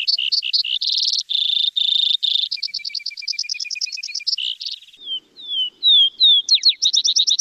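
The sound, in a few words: vesper sparrow song, recording from Lake Tahoe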